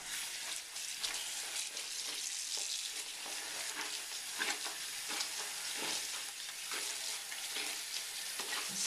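Water rinses a bathtub with a continuous, even hiss of spray and splashing, moderately loud and close, with no pauses.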